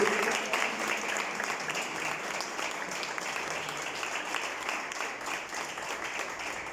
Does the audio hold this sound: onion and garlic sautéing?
no